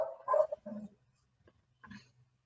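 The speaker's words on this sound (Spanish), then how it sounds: "ladridos." A dog barks in a few short bursts, moderately close, with a pause before a final bark; no talk over it.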